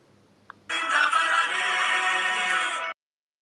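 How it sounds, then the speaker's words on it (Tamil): A phone ringtone rings loudly and close for about two seconds, a bright sustained electronic melody that cuts off abruptly, preceded by a brief click; no one speaks. "ப்ரோ ஃபோன் அடிக்குது"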